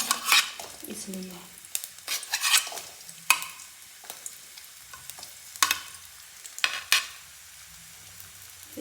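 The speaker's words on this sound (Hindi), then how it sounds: "तेल गरम हो गया है और अब डाल देते हैं हम इसमें सबसे पहले गाजर" Carrots fry in hot oil, giving a quiet sizzle broken by repeated scraping stirs and clinks of a utensil against the pan, with a voice faintly in the background.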